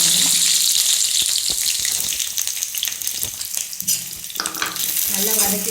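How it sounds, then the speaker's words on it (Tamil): Chopped ivy gourd (kovakkai) fries in hot oil in a kadai with a loud, continuous close-up sizzle, broken by stirring scrapes and bubbling. "எண்ணெய் காஞ்சதும் கட் பண்ணி வச்சுருக்க கோவக்காயை போடுங்க."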